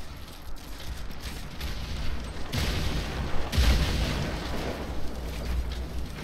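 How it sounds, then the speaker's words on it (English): Grenade blasts in a Fortnite match give several muffled booms with rumbling, noisy bursts over a steady game background. "Don't throw a grenade at me."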